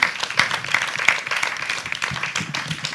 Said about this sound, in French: nous disons un sincère merci en applaudissements, s'il vous plaît